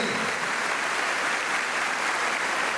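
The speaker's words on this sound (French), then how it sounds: "Un grand applaudissement pour eux." A church congregation gives a big round of applause, steady and dense clapping from many hands sustained throughout at moderate loudness, with no clear speech over it.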